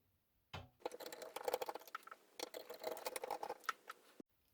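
Screws are backed out of the faceplate of a vintage Sony TA-4650 VFET amplifier, a close, quiet run of rapid ticking and grinding from a driver turning, stopping briefly midway.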